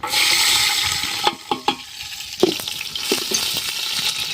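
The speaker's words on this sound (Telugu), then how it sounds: "నెయ్యి ఆయిల్ వేడైంది ఇప్పుడైతే ఉల్లిగడ్డ మిర్చి వేసుకుందాం" Onion and green chilli frying in hot ghee and oil outdoors in a forest, a loud continuous sizzle with a few sharp spatula scrapes and clatters, close up and without talk.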